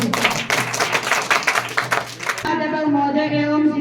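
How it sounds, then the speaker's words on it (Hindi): Audience at a government school Independence Day event claps to welcome the next student speaker, a dense burst of hand claps that gives way to a sustained tonal sound partway through. "तालियों के साथ स्वागत करें।"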